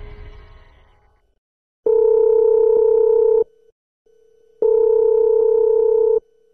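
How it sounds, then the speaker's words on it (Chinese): A telephone rings out while a call is being placed, two long, steady, loud tone bursts separated by a pause, with a fainter tone in the gap and some brief noise at the start. "我们现场拨打了此前和刘女士发生直接肢体冲突的二女儿的电话。"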